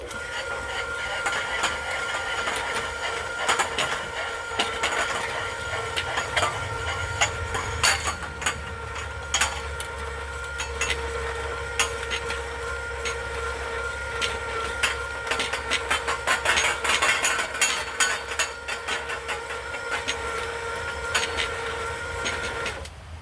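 A tubing roller machine rolls metal tubing in a workshop, giving a continuous mechanical grinding and whirring with a low motor rumble and frequent sharp metallic clicks and knocks throughout.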